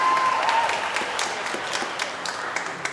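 Steady clapping from a church congregation during Sunday Mass, dense and sustained throughout, with a brief tonal whine early on.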